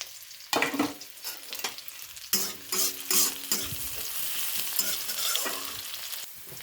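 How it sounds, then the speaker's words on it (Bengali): Chopped onions sizzle in white oil in a pan while a spoon stirs them, producing scraping clatters and bursts of frying hiss up close, with the sizzle carrying on between strokes. "আমি একটু ভেজে নেব পেঁয়াজটাকে"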